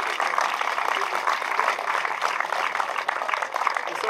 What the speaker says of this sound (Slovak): Takže veľký potlesk.